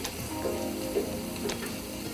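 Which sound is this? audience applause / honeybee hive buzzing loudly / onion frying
onion frying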